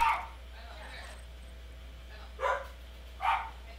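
Dogs, a baby dog and a big dog, bark indoors in a few short separate bursts around a gaming session, fairly close but not loud, with quiet room tone between barks.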